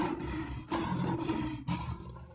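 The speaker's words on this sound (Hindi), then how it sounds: "आवाज से तो लगता है कि कोई शेर मेरी ही ओर बढ़ता चला आ रहा है।" Cartoon lion roaring, a deep sustained growling roar in three long surges, loud and close, with no talk.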